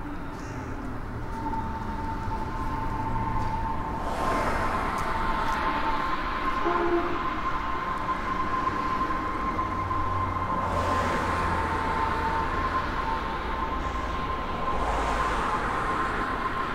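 A Nuremberg U-Bahn DT1 subway train of four cars pulls out of the depot in winter, a steady loud rumble with a sustained whining tone and a couple of swelling passes, no voices.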